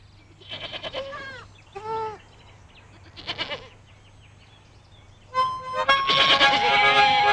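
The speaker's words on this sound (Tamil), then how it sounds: "அங்க ஒரு ஆட்டுக்குட்டி தெரியுது" A young goat bleats several times in short, wavering cries at close range, with quiet pauses between them, before loud music swells in at the end.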